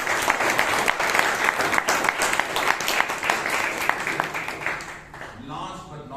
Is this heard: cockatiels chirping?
no